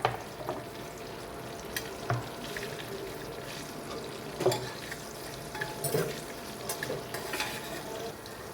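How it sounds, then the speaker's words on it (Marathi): Onion sautéing in a pan until golden for a green masala pulao, a steady close sizzle of frying with occasional scraping stirs and clinks, no voices. "कांदा सोनेरी रंग येईपर्यंत परतून घ्यायचा."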